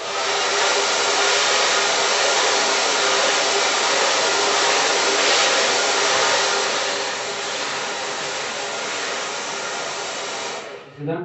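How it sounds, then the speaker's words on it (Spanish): A hair dryer blowing on a client's hair during a scissor haircut in a barbershop: a loud, steady, close whoosh that runs continuously, dips slightly in level, then cuts off at the end. "voy a aventar el aire de la secadora sobre el cabello del cliente"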